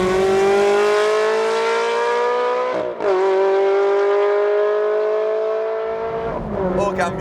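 A Ferrari 360 Challenge Stradale's engine howls steadily at high revs as the car drives, pitch climbing gradually, with a brief dip around each gear change and loud interior engine drone throughout.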